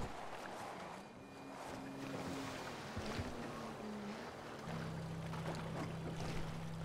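A boat moves across water in the GTA V video game, with a steady engine drone and a washing, windy rush of water throughout, the engine tone shifting and steadying partway through.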